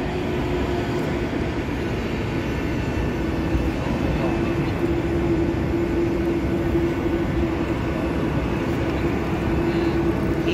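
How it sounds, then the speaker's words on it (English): Jet airliner taxiing at Dublin airport, a loud steady engine roar with a droning hum heard nearby, continuous for the whole stretch, with people talking over it. "He's just taxiing off."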